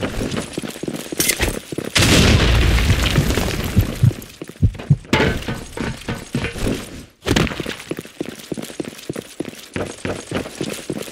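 Grenade explosion in the Blackshot online shooter, a loud broadband blast with a lingering rumble, surrounded by bursts of gunfire and sharp impacts.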